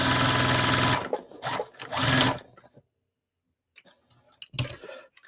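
A sewing machine stitches a tote bag in two loud, close bursts of fast whirring, then stops for a quiet pause before a short final run.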